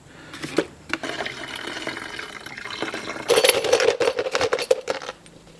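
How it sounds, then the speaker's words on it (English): Liquid is poured back into a container during work on a 6.7 Powerstroke Platinum pickup, first as a soft trickle and then as a louder, close splashing pour before it tapers off. "Hold on, let me pour this back in here."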